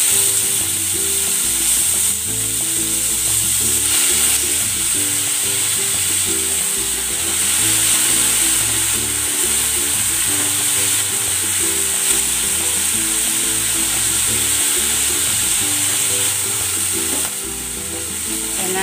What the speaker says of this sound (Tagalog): Ipan-fry ko muna itong pork.